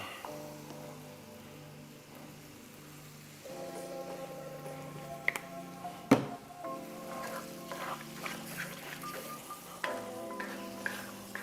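Chili sauce with Worcestershire and yellow mustard cooks in a pan, a soft low sizzle with scraping stirs and occasional clanks of a utensil, quiet and close.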